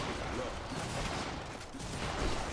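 SMG units in the video game StarCraft 2 fire in dense, continuous bursts of rapid gunfire, with a busy mix of battle noise throughout and a voice partly buried underneath.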